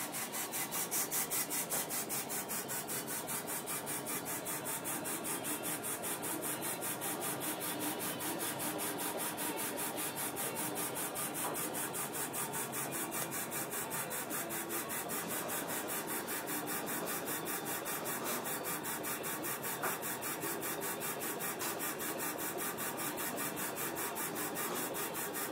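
A LaserPro CO2 30 watt laser engraving machine at work, a continuous even hiss and rapid rasping rhythm from the scanning head and air assist, steady throughout at moderate level.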